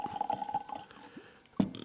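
Rum poured from a bottle into a glass, a short glugging, trickling liquid run with a few small drips, close and moderately quiet, ending in a brief louder splash.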